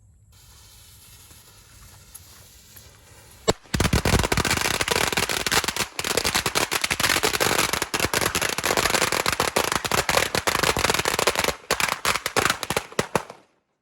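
A string of Thai firecrackers lit outdoors for a lottery-number ritual bursts into a dense, loud, rapid crackle of pops lasting about ten seconds after a quieter lead-in, then cuts off abruptly.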